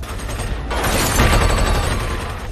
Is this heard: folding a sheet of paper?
no